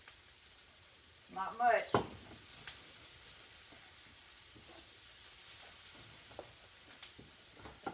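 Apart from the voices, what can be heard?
Spam and eggs frying in a skillet with bacon grease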